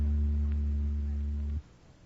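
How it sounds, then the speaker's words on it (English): An electric oscillator hums a steady low tone of about 80 reversals per second, loud and unbroken with faint harmonics, then cuts off abruptly after about a second and a half into near silence. "That was an electric oscillator you just heard"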